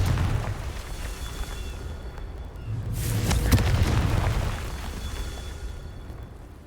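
A Confringo blasting spell goes off in Hogwarts Legacy, a sharp burst followed by a heavy rolling boom that swells and slowly fades over a rumbling game background.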